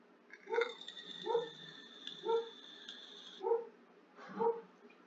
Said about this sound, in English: And the neighbor's dogs have noticed something.